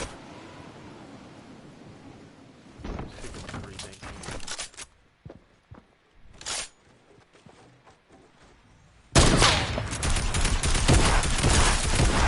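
Gunfire from a newly acquired gun in a video game comes in bursts of rapid shots, some short and some sustained, with quieter gaps between them and a loud dense volley near the end.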